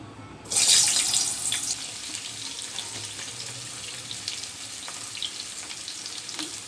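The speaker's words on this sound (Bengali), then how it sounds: "পটল ভাজির জন্য আমি প্রথমে পরিমাণ মতো তেল গরম করে নিয়েছি প্রথমে দিয়ে দিচ্ছি আমি পটল" Pointed gourd (potol) dropped into hot oil bursts into a loud, bright sizzle that then settles into a steady, close frying hiss with light crackles, with no voices.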